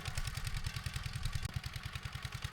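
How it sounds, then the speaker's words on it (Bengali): A small engine chugs in a fast, steady rhythm, a faint shallow tube-well pump motor running continuously at some distance. "দেখতে পাচ্ছেন দূরে মেশিন শ্যালো মেশিন"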